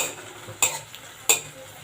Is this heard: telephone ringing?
no